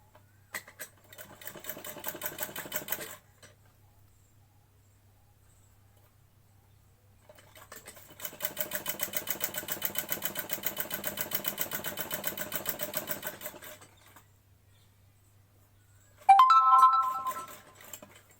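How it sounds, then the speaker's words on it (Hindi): A sewing machine stitches a cloth bag made from leftover fabric, running in two steady whirring bursts separated by pauses, close and clear with no voices, and a brief higher-pitched mechanical sound follows near the end. "यहाँ से सिलाई थोड़ी रह गई है, तो मैं फिर से लगाती हूँ इस सिलाई को।"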